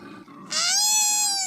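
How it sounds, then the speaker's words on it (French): A lemur gives one loud, drawn-out tonal call that rises into a bright, ringing wail after a low, rough opening, close and alone. "Un lémurien."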